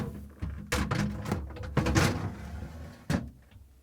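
A Samsung fridge crisper drawer slid in on its runners, with close, loud plastic thunks and knocks and a final bump as it seats, no voices.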